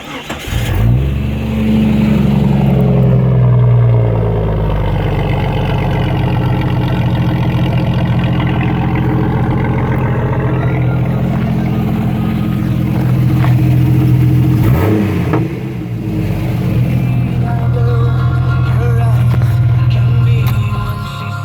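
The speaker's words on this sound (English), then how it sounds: "I'll start it up and let you hear it run." A 1995 Jeep YJ with a straight-pipe exhaust and stock catalytic converter cranks, fires up and runs, settling into a loud, steady idle with a few revs, close and continuous throughout.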